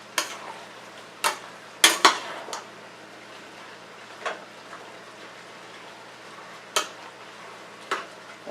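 Green vegetables stirred through melted margarine in a pan, with scattered clinks and scrapes of a utensil against the pan over a faint sizzle, sparse and fairly quiet with pauses between strokes.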